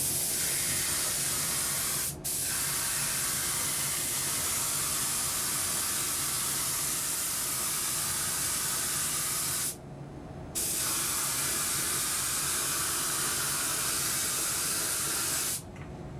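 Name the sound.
spraying clear coat over ink letters and decals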